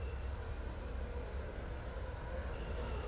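A Class 717 train running in the game Stepford County Railway makes a steady, continuous rumble with a constant broadband hum throughout, with no voices over it.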